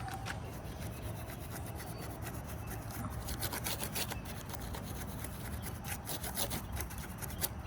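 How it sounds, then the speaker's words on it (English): A stiff brush scrubs back and forth across the grille of a Toyota Prius during detailing, a continuous close rasping rub with no talk. "Brush out the grill. Just gonna get a better scrub."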